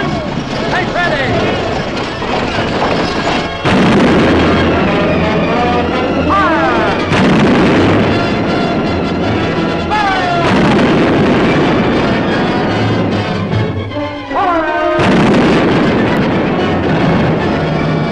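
Movie battle scene of a division firing a musket volley from a fort wall, heard as loud, booming, rolling gunfire in repeated bursts across the whole stretch, with shouted voices mixed in among the blasts.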